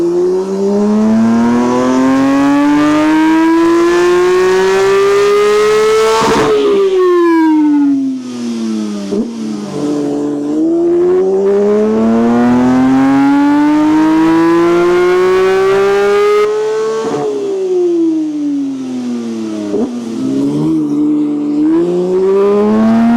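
A tuned Porsche 911 GT3 engine with a stage 2 ECU remap revs loud and close in two long sweeps. Each climbs steadily in pitch, then drops sharply back toward idle.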